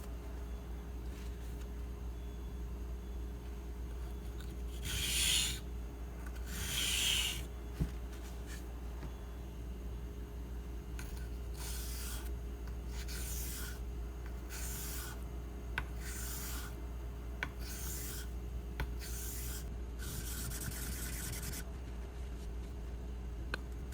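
A kamisori straight razor is drawn across a sharpening stone in separate short scraping strokes, some in quick bursts, over a low steady hum, with no voices.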